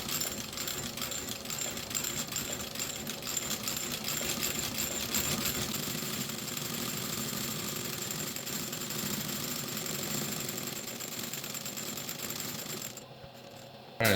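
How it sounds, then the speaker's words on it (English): A sewing machine stitching a wetted lug boot sole, running as a steady, rapid mechanical chatter that holds for many seconds before stopping abruptly near the end, with no talk. "we're going to wet the sole so that it'll allow the machine to stitch a lot smoother"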